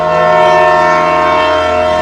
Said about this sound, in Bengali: ট্রেন ধীরে ধীরে স্টেশন থেকে বেরোতে থাকে।